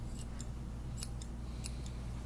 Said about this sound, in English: Less is better, so don't get too crazy with the scissors.